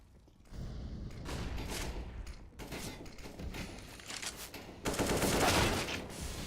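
Gunfire crackles in a competitive online shooter match between esports teams, bursts of rapid automatic fire and single shots coming in waves, loud and close, with no voices over it.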